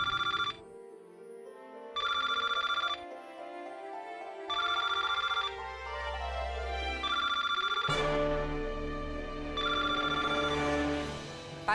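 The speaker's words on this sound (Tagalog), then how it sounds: "Baka si Lindon na yung tumatawag." A mobile phone rings in a TV drama scene, its electronic ringtone pulsing in regular bursts about two seconds apart, steady and fairly loud over background music.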